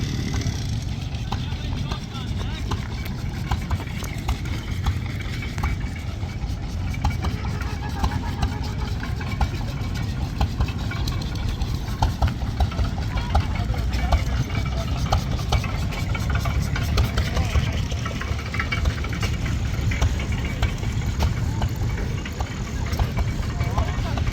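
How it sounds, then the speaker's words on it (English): A steam engine runs at an agricultural show with a continuous, fairly loud mechanical chugging, and people talk over it in a busy outdoor crowd. "That's a steam engine, isn't it?"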